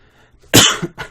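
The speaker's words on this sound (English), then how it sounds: "Still got an annoying cough." A single sharp cough, loud and close, followed by a smaller second cough a moment later.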